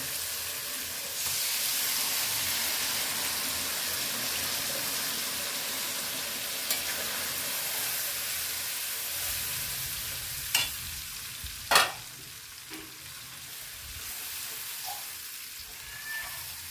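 Yogurt and spice mix stirred into a hot frying pan, a broad steady sizzle that swells early and holds, with occasional sharp clinks of a utensil against the pan.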